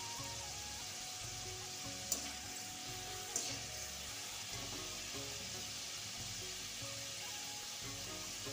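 Chana dal frying in hot oil in a wok on a gas stove gives a steady, even sizzle throughout, with two brief sharp clicks from a utensil early on. No one talks.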